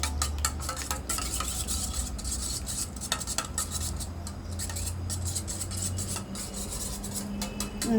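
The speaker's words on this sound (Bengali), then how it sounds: "তো আগে একটু ডিমটাকে একটু গুলে নিই" Four eggs with salt, turmeric, chilli powder and chopped green chilli whisked in a bowl for an omelette: fast, steady clinking and scraping strokes running nonstop and close, with a low hum underneath.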